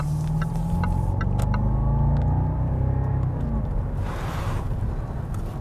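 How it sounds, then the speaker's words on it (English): A 2011 Jaguar XJ L cruising at about 40 mph gives a low, smooth blend of engine intake and exhaust rumble beneath steady road noise, muted and continuous from inside the cabin. "it's like the right blend of intake and exhaust noise."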